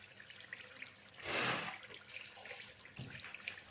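Water poured into a pot of browned beef nihari, a soft splashing gush that swells in the middle and trails off into light trickles, with a small splash near the end.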